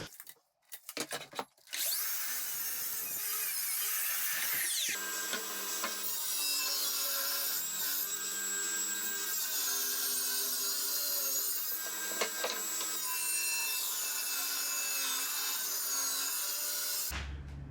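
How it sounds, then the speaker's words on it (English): A power saw cuts timber to length, its steady whining buzz running loud and continuous for about fifteen seconds after a few brief clattering knocks. "we'll cut them to length and then we'll get on the table saw"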